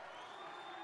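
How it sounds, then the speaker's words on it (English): A crowd at the Australia v Japan women's lacrosse gold medal match at the 2025 Asia-Pacific Championship reacts unhappily to a foul: a steady, dense wash of murmuring and jeering voices. "And the crowd none too happy with that, as the Japanese player there in Muto"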